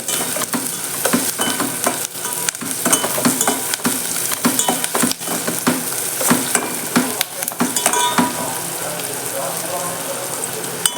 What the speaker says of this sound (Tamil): சட்டி வச்சு எண்ணெய் ஊற்றி கடுகு போட்டு வெங்காயம் போட்டிருக்கேன்